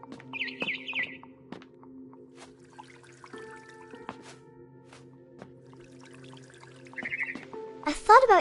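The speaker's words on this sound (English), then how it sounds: "Then I heard chirping outside my window." Barn swallow chirping in the video game What Remains of Edith Finch, brief high chirps scattered over a low ambient game drone, with a clearer burst of chirps near the end.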